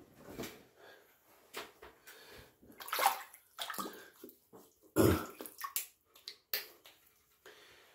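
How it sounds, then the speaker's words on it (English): Water splashes and sloshes in bursts as a man rinses his face over a bathroom sink after shaving, with several separate splashing episodes, the strongest near the middle and just past it, and quieter drips and handling sounds between. "let me get my face rinsed off one more time."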